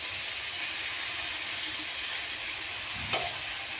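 Tomatoes sizzle steadily in a frying pan while being stirred, a close, even hiss with a brief clink of the spoon near the end.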